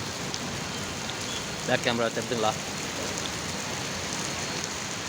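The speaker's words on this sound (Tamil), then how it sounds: "இப்போ நாடியெல்லாம் மழை பெஞ்சிருக்கு பார்த்தீங்களா சரியான மழை பெய்யுதுங்க" Heavy rain falls in a steady, dense hiss throughout, and a voice briefly speaks over it in the middle.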